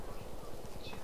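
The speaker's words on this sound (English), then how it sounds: "I heard footsteps." Rhythmic footsteps in a multiplayer shooter game, a steady run of soft, evenly spaced thuds heard faintly beneath a dense wash of game noise.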